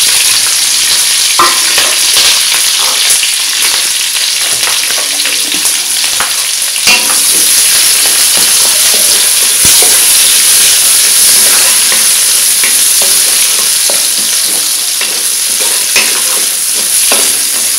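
Green chilli, onion and curry leaves sizzle loudly in a pan, a dense steady frying hiss broken by frequent spatula scrapes and knocks against the pan, with no talking.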